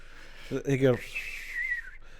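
A person's voice imitates a creepy, Pinocchio-style whistle, a thin rising-and-falling whistled tone following a brief vocal burst, fairly close and alone.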